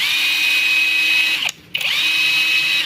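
A budget impact wrench spinning on its large power setting gives a loud, steady high-pitched motor whine that cuts out briefly, then spins back up to full speed, close up and without voices.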